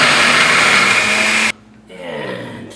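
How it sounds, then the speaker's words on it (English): A kitchen blender chops shallots for a rendang paste, roaring loud and steady for a second and a half before cutting out abruptly, then a softer hum picks up. "into the blender go some shallots. Now I'm going to beat these down because I need the liquid from them."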